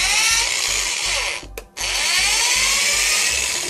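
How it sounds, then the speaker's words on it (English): A power drill bores out a hole in a plastic toy pistol part, whining steadily and close up, stopping briefly for a moment before spinning up again for a second long run. "Whoops, I forgot to drill that out."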